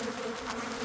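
Honey bees buzz around an opened hive in an apiary in a close, continuous hum that lasts under a second.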